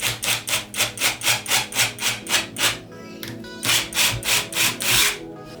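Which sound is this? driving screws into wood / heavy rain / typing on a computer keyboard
driving screws into wood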